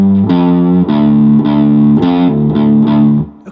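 An electric guitar in drop D tuning plays a distorted hard rock riff on two strings, drawn from the natural minor scale, with chunky repeated phrases in a steady rhythm, loud and alone.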